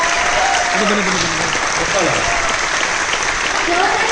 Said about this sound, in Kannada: ಜೋರ ಚಪ್ಪಾಳೆ ಬರ್ತಾ ಇರಬೇಕು.